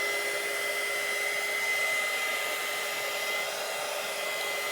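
Small heat gun blowing steadily while drying wet paint on a T-shirt, a constant close airy whir with a thin high whine, unbroken throughout.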